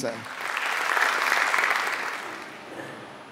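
Congregation applause fills a church worship service, a broad steady wash of many hands clapping that swells and then slowly fades over a few seconds, with no voices standing out.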